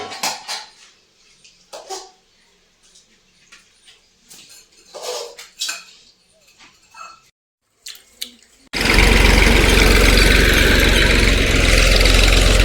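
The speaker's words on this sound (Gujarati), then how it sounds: "પાણી ચાલુ છે" Water running from a tap or pipe in a loud, steady rush that begins abruptly after some clattering of dishes and pans.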